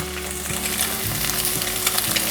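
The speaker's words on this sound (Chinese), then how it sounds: "给豆腐翻面，翻面后再继续让它煎，把另一面也煎成金黄色" Tofu sizzles and fries in a hot pan, a loud, crackling close-up sizzle with small pops and a stirring or flipping scrape partway through.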